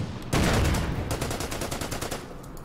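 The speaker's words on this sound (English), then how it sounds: "keep hitting the Valentine with the AT gun." An anti-tank gun fires in the World War II strategy game Order of Battle, a sudden loud blast followed by a rattling burst of rapid shots that slowly fades.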